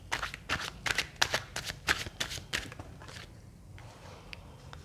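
Tarot cards being shuffled by hand in quick, crisp riffling bursts that repeat steadily for about three seconds, then give way to softer scattered card sounds and a quiet room, with no one talking.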